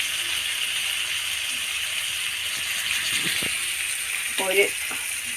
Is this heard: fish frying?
yes